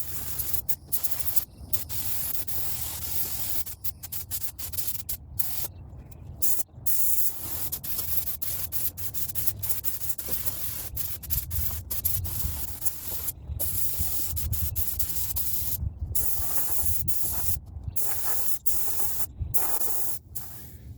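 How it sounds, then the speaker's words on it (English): Spray gun laying down clear coat at 20 PSI on a Nissan 350Z spoiler, the same gun used for the candy coat, gives a steady close hiss broken by frequent short pauses between passes, with no talking. "This is just the clear coat. I'm using the same gun that I used for the candy at 20 PSI still."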